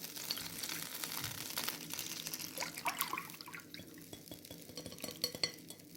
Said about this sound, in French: Je vais remélanger. Et je vais verser tout ça.